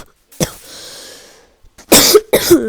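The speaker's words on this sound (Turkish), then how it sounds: "Öksürdüm de hastayım." A single sharp cough from someone who is ill, followed by two loud harsh coughs close to the mic, with quiet background sound in between.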